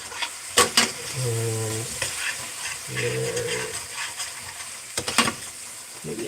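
Cumin, coriander and red chili powder fry in a pan for chicken pulao, hissing under a few sharp scrapes and clinks of a utensil, with a brief voice and a couple of tonal hums in between.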